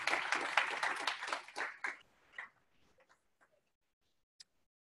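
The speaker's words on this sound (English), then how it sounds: "Let's give them a big round of applause coming up from New York City to come talk to us" An audience at a talk gives a round of applause for speakers visiting from New York City; dense clapping for about two seconds thins to a few scattered claps and then silence.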